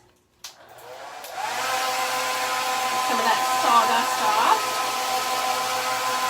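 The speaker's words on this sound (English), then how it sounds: "let me hit this with the blow dryer" A blow dryer runs steadily on a thrift store item being upcycled into fall decor, switching on near the start and holding a loud, even whoosh throughout. A voice speaks briefly and faintly beneath it.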